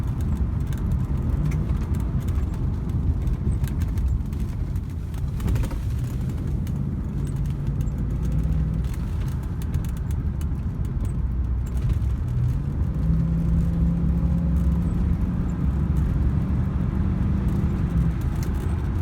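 A Rolls Royce car drives with a steady, low engine and road rumble heard from inside, smooth and continuous with no clear gear shifts, and no talking.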